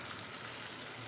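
Curry leaves sizzling in hot oil during the cooking of an Ayurvedic kuzhambu, a steady, soft crackling fry that continues evenly throughout with no speech.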